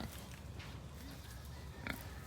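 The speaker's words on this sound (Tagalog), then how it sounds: "sampung malalaki ang kanyang mga biik" Newborn piglets with their mother pig, giving soft low grunts and small squeals at moderate distance while someone talks quietly in Tagalog.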